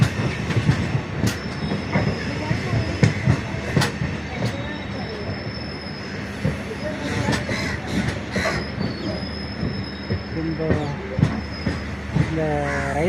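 The Mangalore Express runs between Puducherry and Viluppuram, heard from a window seat as loud, rhythmic wheel clatter over rail joints with intermittent high metallic squeals and a steady rumble.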